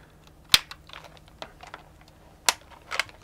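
Sparse keystrokes on an MSI Vigor GK50 Elite mechanical keyboard, close up: two sharp loud clacks stand out among a scatter of softer, irregular key taps in a quiet room.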